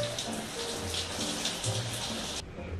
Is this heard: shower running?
yes